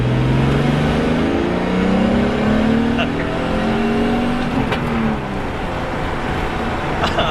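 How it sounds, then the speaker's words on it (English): Boosted car engine pulling hard at wide open throttle in third gear, a loud rising rev that climbs steadily across several seconds, with a voice briefly talking over it. "Third, and wide open throttle."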